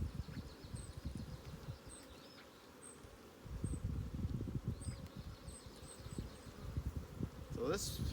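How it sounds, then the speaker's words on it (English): Honeybees buzzing around an open hive that is preparing to swarm, a dense close drone with individual bees flying past the microphone, steady throughout with a short rustle near the end. "So this hive is obviously in the middle of preparing to swarm."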